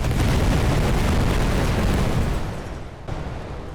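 A grenade blast in the World War I strategy game The Great War 6.0, a loud, dense, sustained roar of explosive rumble that stays heavy for over two seconds, dips, then surges briefly again before settling.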